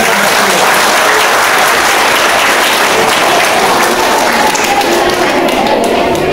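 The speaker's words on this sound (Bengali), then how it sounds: "জোরে হাততালি হবে।" Loud, sustained applause fills a school annual results ceremony, many hands clapping in a dense, steady roar that holds at full strength throughout with no gaps.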